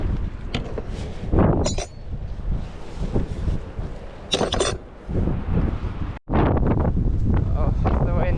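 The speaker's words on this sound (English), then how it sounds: "the wind is very strong up here" Strong wind blasts across the microphone on a coastal clifftop walk between Bude and Crackington Haven, roaring in uneven gusts with a brief drop partway through. A voice speaks intermittently under the buffeting.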